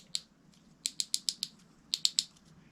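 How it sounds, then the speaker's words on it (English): The tension knob on a Quantum Smoke S3 baitcasting fishing reel clicks crisply up close: one click, then a quick run of five, then a short burst of three or four, quiet otherwise. "it has audible clicks"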